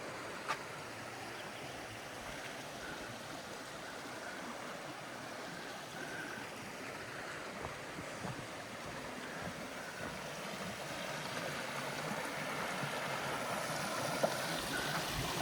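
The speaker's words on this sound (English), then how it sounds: "if you can hear me over the rushing water" Steady rushing water of a brook in a gorge fills the scene, a constant broadband wash that swells slightly toward the end, with no talking.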